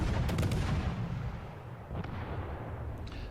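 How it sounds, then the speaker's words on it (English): Battleship guns firing in a naval combat game: a low booming salvo at the start that fades into a rumbling tail, then a second, softer report about two seconds later, all fairly distant and muffled. "We're with at least 2 ships firing at him."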